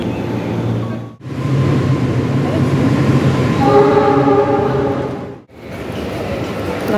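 At Cikarang station a local commuter train roars past loudly up close, its horn sounding in layered tones midway through the steady rumble.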